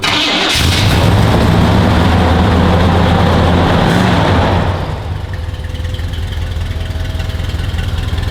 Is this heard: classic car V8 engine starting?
yes